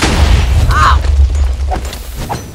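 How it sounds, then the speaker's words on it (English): Magical explosion from a wizard's spell in a comedic fantasy scene, a loud low boom rumbling for about a second with a brief whooshing burst, close and full. "What are you exploding?"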